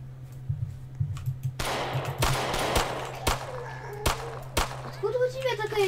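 Sharp gunshots crack out one by one at an uneven pace while fighting zombies in the Roblox game Those Who Remain, over a low steady hum, with short bursts of voice between them.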